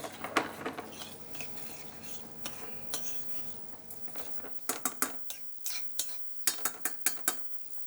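Rice is stirred into melted butter in a pan, a utensil scraping and clinking against the metal in quick repeated strokes over a faint sizzle, the taps growing sharper and more rhythmic toward the end.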